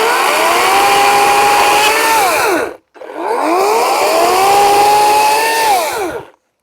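An EGO 18-inch battery chainsaw with a full-chisel chain cuts branches in two long, loud bursts, its whine dipping under load and rising again, with a brief drop to silence between them.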